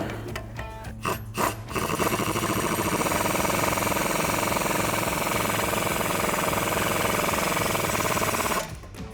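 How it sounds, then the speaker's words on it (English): An impact wrench drives the 18mm wheel bearing bolts on a 2015-2025 Mustang rear suspension, a loud continuous rattling hammer lasting about seven seconds after a few short bursts. "grab your 18mm socket and tighten these down."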